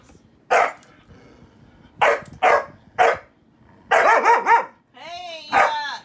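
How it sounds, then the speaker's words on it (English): Dogs cooped up indoors bark in short, loud bursts, single barks and quick doubled ones close by, ending in a drawn-out whining yelp. "That's what happens when dogs are cooped up for too long."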